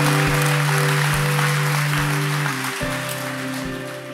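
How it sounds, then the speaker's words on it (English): A church congregation claps and cheers, a broad continuous wash of applause over a steady low musical drone with soft thumps, loud throughout and easing slightly toward the end. "Why don't we give the Lord a clap and a shout?"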